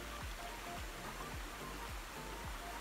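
A creek flows steadily with dense, broadband rushing water throughout. The stream sound is constant and fairly loud, with faint low thumps repeating in the background.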